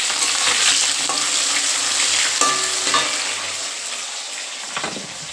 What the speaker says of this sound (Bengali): আলুগুলো একটু ভাজা হোক।